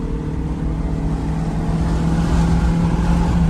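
A 1990 Honda CRX Si with a clogged catalytic converter holds third gear, its engine droning at a steady, loud pitch with a low rumble throughout, no talk over it.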